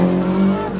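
A rally car from the 1987 Rally de la República Argentina launches at a timed stage start, its engine droning loud and close with a steady, strained tone throughout.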